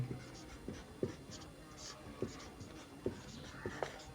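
Pen writing an equation on paper, soft scratchy strokes with faint taps repeating irregularly, close and quiet under low room noise.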